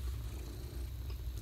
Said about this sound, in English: he's over here purring away